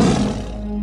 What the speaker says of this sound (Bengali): ওই দেখো, বাঘ ডাকছে এবার।